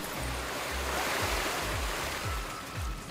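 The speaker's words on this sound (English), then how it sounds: "the water physics are good. It's all really sloshing over and it follows his feet." Water sloshes around a character's feet in Astro Bot on PS5, a continuous rushing wash of waves with rhythmic low swells.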